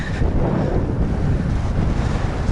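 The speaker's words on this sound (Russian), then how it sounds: "Ветер разгулялся," Loud, constant wind roars and buffets the microphone, a dense low rumble with no let-up for the whole stretch.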